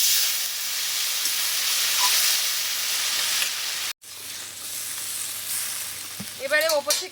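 Water poured into a hot pan still coated with fried fish and mustard spices sets off a loud, steady, hissing sizzle that carries through the clip, with a brief break and some clatter near the end.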